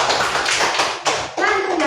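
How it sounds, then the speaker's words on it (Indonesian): Classmates clap for a student named Azhar in a classroom, a brief burst of close, dense hand claps that pauses for a moment and then resumes, with children's voices mixed in. "Tepuk tangan untuk Azhar."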